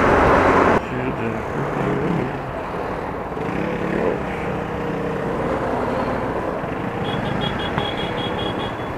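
Road traffic on a street beside houses rolls past a motorcycle rider as a steady, dense roar of passing cars, with one louder surge at the start.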